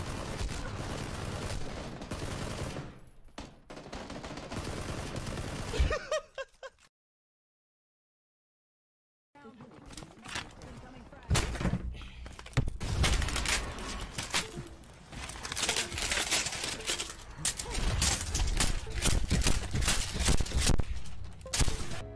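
Video game gunfire rattles in rapid bursts and volleys, loud and close, broken by a couple of seconds of total silence before the shooting resumes denser.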